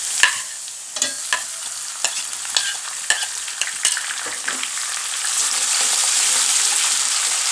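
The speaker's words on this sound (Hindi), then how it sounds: "अब हम इसमें अदरक और लहसुन का पेस्ट शामिल कर देंगे।" Onions browned with ginger and garlic paste sizzle in a pan for a dhaba-style dal, with a spoon scraping and stirring in repeated strokes over a steady frying hiss.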